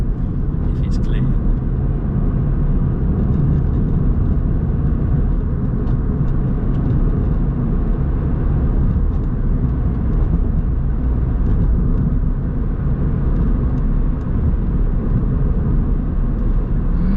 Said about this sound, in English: get your foot on the gas and build up the speed